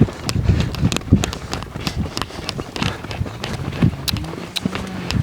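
A colt's hooves thud unevenly on the ground as he lopes out of outside turns during an early training ride, a steady run of close, soft footfalls with scattered louder hits.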